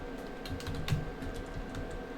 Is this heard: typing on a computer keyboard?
yes